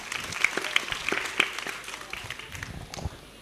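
Scattered, modest applause from a university audience at Universitas Muhammadiyah Banjarmasin during an Anies Baswedan event, uneven claps peaking early and thinning toward the end, with faint crowd murmur beneath.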